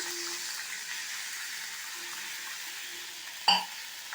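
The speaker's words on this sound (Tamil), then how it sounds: "இப்போது கொஞ்சமாக தண்ணி சேர்த்துடுறேன்" Cashews fried golden in hot ghee sizzle softly and steadily, then a sudden sharp hiss bursts out as a little water is poured in, close and alone without talk.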